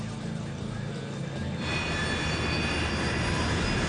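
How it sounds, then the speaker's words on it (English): An American Airlines airliner's engines run during taxi before takeoff, a steady loud droning roar that swells to a fuller, brighter whine partway through, with no talk. "The crew is preparing the plane for takeoff."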